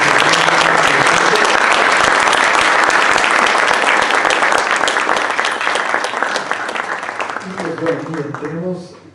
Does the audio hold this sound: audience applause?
yes